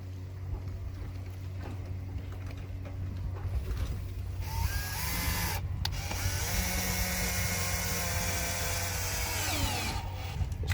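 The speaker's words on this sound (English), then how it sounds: "Turn it into the aluminum, back it out." A tap cuts threads into aluminum, turning in and then backing out, while mounting a surface-mount diving board. A steady, close whirring runs throughout, with shifting tonal sweeps where the direction reverses.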